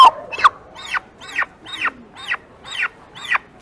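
A turkey at a poultry show gobbles in a rapid series of about eight loud, rhythmic bursts at close range, each rising and falling with no talk over it.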